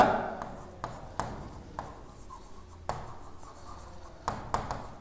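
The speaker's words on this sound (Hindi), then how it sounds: "एक और लिख देते हैं" Marker or chalk writing on a board in a grammar class, with a series of short scratchy strokes and taps spread across the clip, fairly close, with no talk over it.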